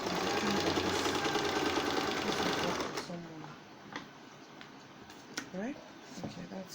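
A sewing machine stitches darts on a skirt, running steadily for about three seconds, then stopping, followed by quieter handling clicks and faint background noise.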